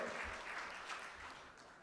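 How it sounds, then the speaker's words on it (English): An audience claps at the 46th Annual Michigan Week Community Awards Breakfast, a brief, fairly quiet patter of hands heard from a distance in the room. "Let's clap for them."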